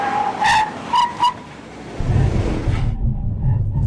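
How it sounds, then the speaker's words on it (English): A 2012 Subaru WRX STI in a hard 60-to-0 braking stop: three sharp tire squeals in quick succession, then a low rumbling roll as the car settles. "And now we do our 60 to 0 braking test."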